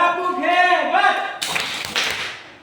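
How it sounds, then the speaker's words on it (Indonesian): Children in a classroom lesson clap their hands for Namira in a short, lively burst of applause that follows a spoken voice. "Tepuk tangan untuk Namira."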